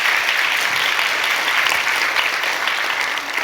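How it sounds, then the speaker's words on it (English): Sustained, dense audience applause fills a conference hall after closing talks at a Stanford women in data science event, steady and loud throughout with no pause. "And so a huge round of applause for everyone who was on the podium."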